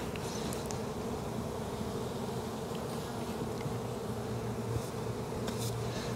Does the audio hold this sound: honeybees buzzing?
yes